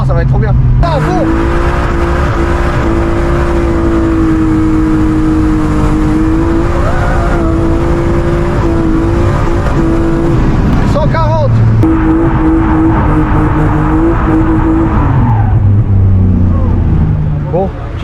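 A drift car at full throttle on a track, its engine howling loud and close with a long sustained high rev that dips briefly around the middle, then pulls again before easing off near the end.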